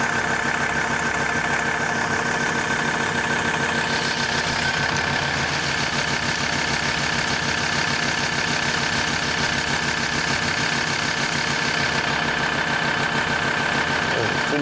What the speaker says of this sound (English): now that we have the engine running